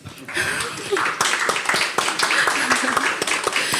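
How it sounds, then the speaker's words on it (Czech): Audience applause at a formal event marking 35 years of Czechoslovak–Israeli diplomatic relations: steady clapping from a crowd, with a voice speaking over it throughout. "ja si myslím, že si to zaslúži potlesk"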